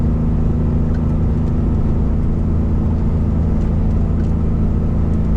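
Engine braking holds a car back on a steep downhill at night, a loud, steady low rumble and whir of the motor, continuous and close with no change in pitch, and nobody talking.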